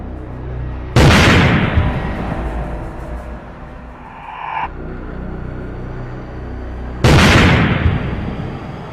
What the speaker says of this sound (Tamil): நாட்டு வெடிகுண்டு வீசப்பட்ட காட்சிகள் இவை